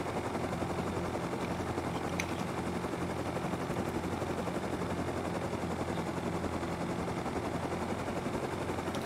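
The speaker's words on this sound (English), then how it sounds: "Oh, I'm getting heli-bombed." A helicopter bombing attack in a video game comes through as steady, dense rotor-and-gunfire noise with rapid rattling bursts, loud and continuous throughout.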